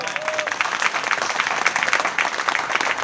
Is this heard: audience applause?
yes